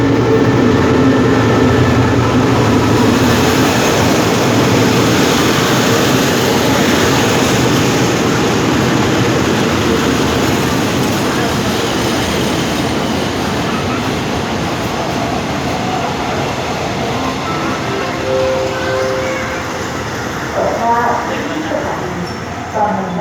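Rapid train 102 from Chiang Mai to Bangkok Apiwat sits at Bang Mun Nak station in Thailand with a loud, steady rumble and hum throughout, while a station announcement voice speaks over it.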